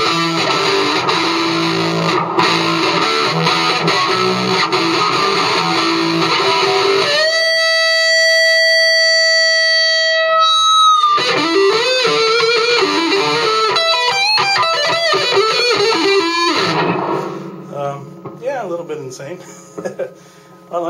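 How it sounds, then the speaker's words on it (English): Loud, heavily distorted electric guitar chugging and sustaining through a Line 6 Spyder II 15-watt amp on its metal channel, with a ringing held chord midway, fading toward the end. "the distortion coming off this amp is pretty heavy duty"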